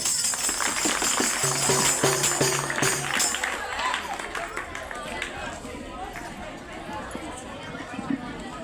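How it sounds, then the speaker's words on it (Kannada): Audience at an outdoor street play about child marriage and child labour clapping in a dense, continuous wash of applause that gradually thins, with crowd chatter and voices mixed in. "ಚಪ್ಪಾಳೆ ನೋಡ್ರಿ."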